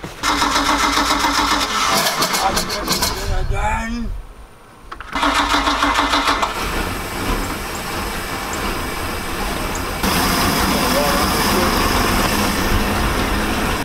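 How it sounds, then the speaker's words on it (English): The engine of a 1999 Chaparral 1930 SS boat cranks with a rapid starter whir, pauses, cranks again, then fires and settles into a loud, steady close-up idle while a person talks over it. "So let's fire the motor up, check it out. Alright, fired right up."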